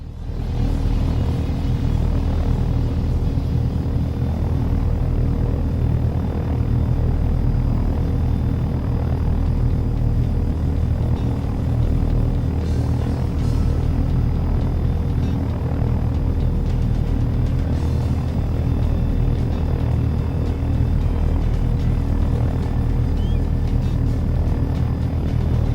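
A helicopter in the flight simulator game Take On Helicopters gives off a steady, loud rotor and engine drone with deep low rumble, constant and unbroken throughout, with no talking.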